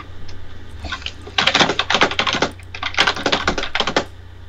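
Fast bursts of typing on a computer keyboard, close and fairly loud, with clattering key strikes in two runs separated by a brief pause, over a low steady hum.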